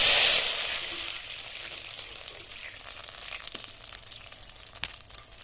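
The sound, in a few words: water poured into hot oil with fried black cumin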